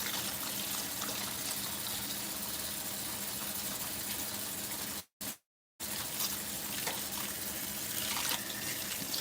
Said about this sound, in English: We're going to wash the pork. Wash it.